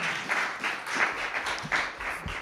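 An audience at a talk bursts into brief applause, a short patter of many hands clapping together in the room.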